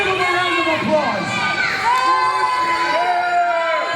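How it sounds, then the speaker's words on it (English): A wrestling event crowd cheers, whoops and shouts steadily and loudly, with children's high voices rising through the noisy, continuous roar of the audience. "Let's give him a round of applause."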